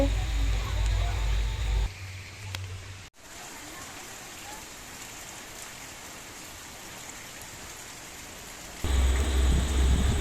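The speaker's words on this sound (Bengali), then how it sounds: "এখন বাজে বিকেল 4টে, এখনো বৃষ্টি পড়ছে" Steady rain falling over a village with wet trees and a pond, heard as a continuous soft hiss at moderate distance, with heavier low rumbling noise at the start and end.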